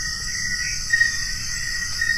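Steady, continuous high-pitched chirping of crickets at night at a cold public cemetery on a mountaintop, alone and fairly loud against a quiet low rumble.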